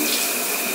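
Running shower water sprays continuously as a loud, steady hiss that stays even and close throughout the short stretch, with no voices.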